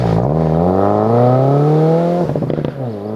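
A 2015-2021 Subaru WRX/STI fitted with an MBRP exhaust revs up, its loud, buzzy note climbing steadily in pitch before dropping off abruptly into a brief burst of crackles and pops.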